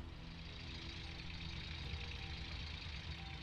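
A vehicle engine idles steadily in the Gold Rush video game, a low continuous rumble with a faint mechanical hum, unbroken and fairly quiet for the whole stretch.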